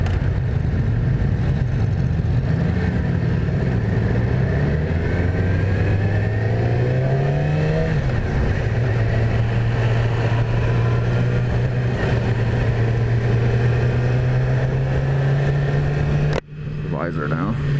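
The engine of a 2017 Yamaha R6 sport motorcycle revs and climbs through gears while it is ridden, loud and close with wind rush, then cuts off abruptly near the end.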